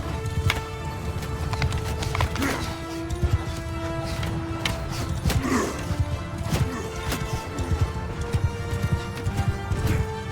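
Cavalry horses galloping in a charge in Mount and Blade II: Bannerlord, a steady dense rumble of hooves with clattering impacts and battle noise throughout, loud and continuous with occasional sharper hits.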